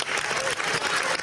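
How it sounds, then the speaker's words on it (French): Brief burst of dense, continuous applause filling a French parliament chamber, steady and fairly loud with no break. "il y a eu des applaudissements"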